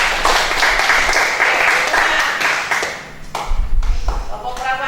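A classroom of students breaks into loud, close applause that thins out partway through into scattered taps and thumps, with a few voices mixed in near the end.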